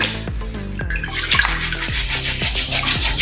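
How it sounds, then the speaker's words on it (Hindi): Husked urad dal rubbed by hand in water, with close, repeated sloshing and splashing strokes coming in a rough rhythm of several swishes per second, moderately loud, with no voices. "और हाथ से और से इसको रगड़ेंगे।"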